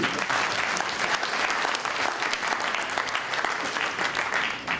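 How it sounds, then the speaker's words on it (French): Sustained, dense applause from a large audience at a forum in Bamako fills the hall with a continuous roar of many hands at a steady loudness, fading slightly at the end. "on vous demande d'applaudir"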